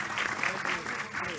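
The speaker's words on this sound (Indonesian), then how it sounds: "Tepuk tangan buat Pak Prabowo kita." An audience applauds a guest at a large outdoor gathering at an Islamic boarding school in Indonesia, dense clapping from many hands holding steady for the whole moment with some crowd noise mixed in.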